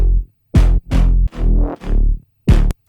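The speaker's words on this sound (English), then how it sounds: "So yeah, that's the bass. Together it sounds like this." Serum synth bass and a growl patch play together in a tech house drop, five loud, punchy stabs in a syncopated rhythm with gaps of silence between them, no talking.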